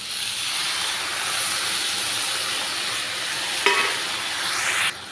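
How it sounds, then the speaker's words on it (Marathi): Water splashed into a wok of sizzling dried fish curry, giving a constant close hiss and crackle with a sharp clatter partway through and a sudden drop at the end. "त्यानंतर थोडंसं शिजण्यासाठी पाणी टाकणार आहोत।"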